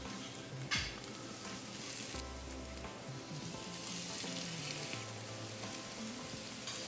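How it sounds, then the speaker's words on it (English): Fish pieces sizzle and fry in oil on a hot tawa griddle, a steady close crackling hiss with brief scrapes as the pan is tilted. "The griddle is nicely hot. We're going to place the pieces on top of it,"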